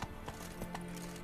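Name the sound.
horse galloping in the video game The Witcher 3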